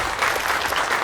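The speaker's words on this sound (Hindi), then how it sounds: "एक बार जोरदार तालियां हो जाएगा" Audience applause at the Mrs Borivali 2023 beauty pageant, a dense, steady wash of many hands clapping, loud and sustained throughout without a break.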